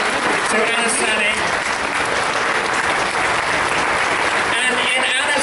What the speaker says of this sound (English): how about a huge round of applause and lots of love and best wishes for a quick recovery to Anna Sani.